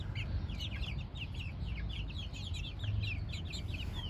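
Gurk hens with their chicks make steady soft clucking and high peeping chirps throughout, close by over a constant low farmyard rumble.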